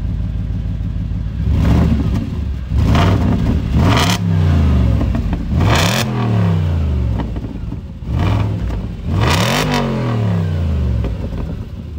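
An Audi S4 B7 V8 is blipped repeatedly at standstill, giving about five sharp, aggressive revs that rise and fall back to a rumbling idle, loud and close.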